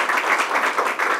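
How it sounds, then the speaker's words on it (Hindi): Dense, steady applause from a studio audience cheering a contestant named Priyanka on a quiz show, a continuous wash of many hands clapping with no pauses across the short burst. "जोरदार तालियां प्रियंका जी के लिए"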